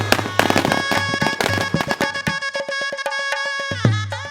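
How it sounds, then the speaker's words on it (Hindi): Firecrackers at a wedding celebration, loud close bursts crackling in rapid irregular strings, with a few sharper heavy bangs and a final big pop, no talk. "ऐसे अवसर पर पटाखे जलाए जाते हैं जिसे टू बर्स्ट क्रैकर्स कहा जाता है।"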